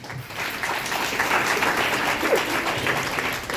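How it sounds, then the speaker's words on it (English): Steady applause from the audience at a Tamil Women Development Group discussion in Sydney, Australia, with continuous, moderately loud clapping from a roomful of people and no speech over it. "applause, please."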